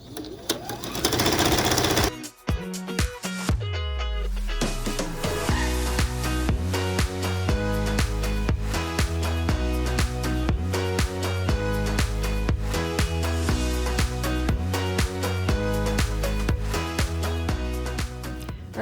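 A sewing machine stitches quilt pieces together from corner to corner, a loud, steady rhythmic run of needle strokes after a brief start, continuing nearly unbroken with a voice talking over it.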